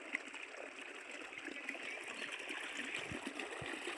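Water gushes from a pipe that has come loose while the pump motor keeps running, a steady, fairly faint rushing and splashing with no voices.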